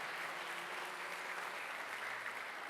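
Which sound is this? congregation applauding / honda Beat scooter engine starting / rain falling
congregation applauding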